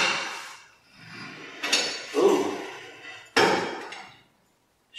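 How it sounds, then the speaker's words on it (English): Axle puller slide hammer working on a Tri-Five Chevy axle, giving a few sharp metallic clanks spaced about a second apart, close and loud, with quiet gaps between strikes. "Axle puller slide hammer"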